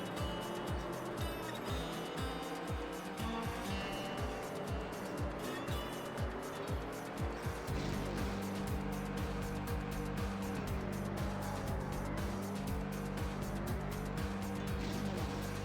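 A Toyota Celica racing in TrackMania, its engine note rising and falling through gear changes with tire noise, steady and fairly quiet, then settling into a sustained droning hum.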